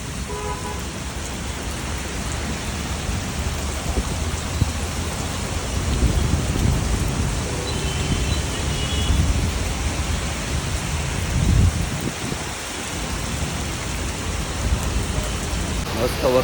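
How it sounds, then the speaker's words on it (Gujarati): Heavy monsoon rain pours outdoors at a Swaminarayan temple garden in Surat, a dense, continuous hiss that stays steady and close for the whole stretch with no voices standing out. "મસ્ત વરસાદને મજા આવે છે. થોડા પલળીએ છીએ પણ વાંધો નથી."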